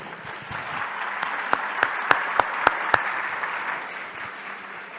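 An audience at an official masterplan launch event in Guaramirim applauds to welcome Guto Índio da Costa: steady, moderately distant clapping with a few sharper individual claps standing out, and no voices.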